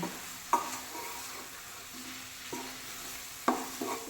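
Large-cut mushrooms fry in a pan for biryani, a soft steady sizzle broken by several sharp scraping stirs of a spoon, close and quiet with no voices.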